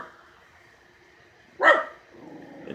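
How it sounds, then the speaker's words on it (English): A single sharp bark from a miniature schnauzer rises out of a quiet background, with a faint whine before it and soft rustling after. "This is what he's barking at."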